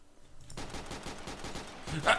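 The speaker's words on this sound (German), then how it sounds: "ich hab echt grad Schüsse gehört" A quick rapid series of gunshots in the video game Trouble in Terrorist Town, a rattling burst of gunfire following a quiet moment, with voices faintly underneath.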